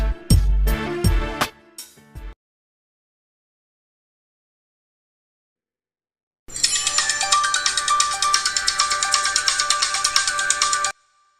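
A mobile phone ringtone for an incoming call trills in a dense, steady electronic melody for several seconds after a short musical burst and a long silence, loud and alone with no talk.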